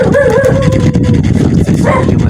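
A dog barks and yips close by, with whimpering, whiny tones between the sharp barks, loud and fairly continuous across the moment.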